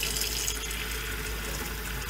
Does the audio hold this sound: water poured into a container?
yes